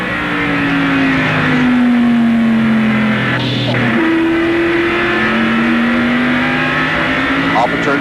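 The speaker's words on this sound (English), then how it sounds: "we watched that activity and the battle for that spot from the Hardee's race cam and Ken Schrader's car." A stock car heard from the in-car camera during a 1987 race at North Wilkesboro's 5/8-mile short track, its engine droning loud and close with steady pitch sweeps as it shifts and revs, with no talk.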